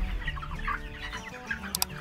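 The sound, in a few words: chickens clucking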